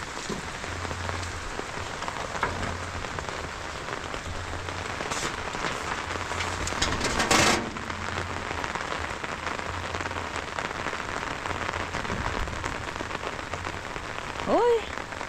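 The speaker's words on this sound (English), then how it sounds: "The rain came with a lot of wind." Steady rain falls across rural countryside, a dense even hiss of drops hitting surfaces throughout, with a brief louder gust or splash midway and faint low rumbling underneath.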